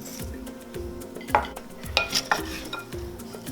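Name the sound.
stirring ackee and jackfruit with salt and black pepper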